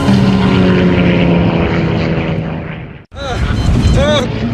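A propeller airliner's engines roar loud and strained as it struggles to climb before a crash, a dense continuous drone that cuts out abruptly and then resumes with sharp, varying tones.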